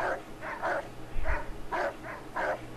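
A highway patrol dog barks repeatedly at an all-breed obedience demonstration, giving around seven sharp, close barks in an uneven rhythm, some doubled, with crowd noise beneath.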